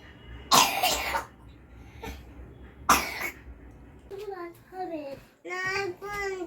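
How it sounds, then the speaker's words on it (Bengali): A person coughs hard twice, with a softer throat sound between the two, close and loud, in a home setting; voices, including a child's, are then heard talking. "আস্তে আস্তে কতটা কাশি হয়েছে দেখেছো?"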